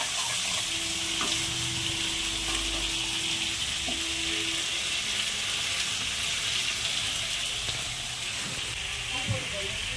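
Spice masala for a fish curry frying in a pan, a close, steady sizzle with soft stirring, while cauliflower fries nearby.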